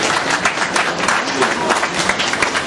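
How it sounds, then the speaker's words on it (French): Sustained audience applause at a tourism investment conference, many hands clapping together in a thick, even roar that holds steady and loud throughout. "Écoute, on l'applaudit."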